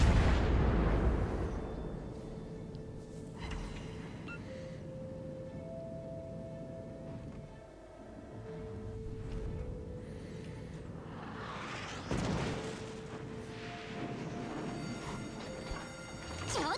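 Naval gunfire from the battleship KMS Graf Spee in the World of Warships Legends game: faint, distant rumbling salvos and booms, with a heavier burst at the start and another later, over a low mechanical ambience.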